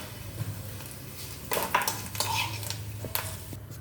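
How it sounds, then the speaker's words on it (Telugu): Metal utensils clink and scrape against a pan and bowl as fried curry leaf tempering is scooped out, with a few sharp taps spread over several seconds and a faint sizzle beneath. "ఇప్పుడు పోపు వేగింది కదా, చక్కగా గిన్నెలోకి తీసేసుకుంటున్నానండి"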